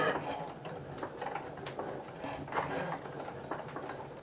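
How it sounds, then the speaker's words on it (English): Cricut cutting machine cutting out a design on a mat, giving a faint, busy run of small mechanical whirs and clicks with irregular ticking pulses close by, with no voices. "It's all done cutting, so now I can remove my mat and put my Cricut machine away."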